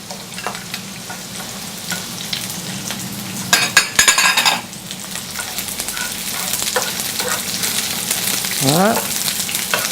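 Sliced peppers and onions frying in a restaurant kitchen pan, a steady loud sizzle throughout with a brief burst of scraping and clinking midway, someone speaking briefly in French near the end.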